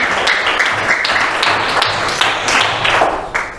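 A classroom group claps for classmates after a presentation, with fairly close, steady clapping from a small group that continues evenly throughout.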